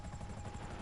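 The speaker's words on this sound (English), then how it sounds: "when I set this chopper down," A helicopter in the GTA 5 video game hovers and sets down, a steady dense rotor and engine roar filling the brief moment without talk.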